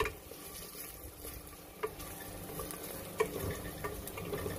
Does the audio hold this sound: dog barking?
no